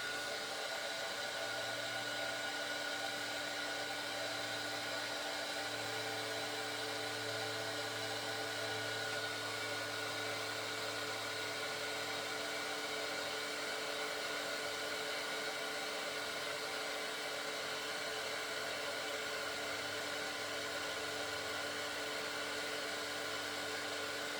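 Continuous close hum and rush of a heat tool warming cardmaking embellishments, steady and unbroken throughout with a faint lower motor tone that wavers slightly, no voices.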